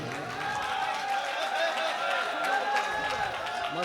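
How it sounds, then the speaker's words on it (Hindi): Mushaira audience in Malegaon applauding, a steady wash of many hands clapping at moderate distance with murmuring crowd noise mixed in throughout. "इनके लिए एक बार ज़ोरदार तालियां बजाइए।"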